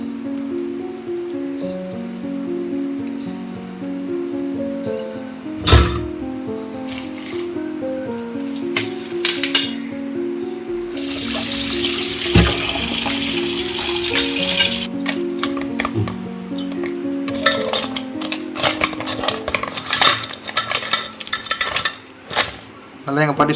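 Crab is rinsed and scrubbed clean in water in a home kitchen, with sloshing, splashing and clattering against a metal vessel over steady background music, the handling growing busier and more irregular toward the end.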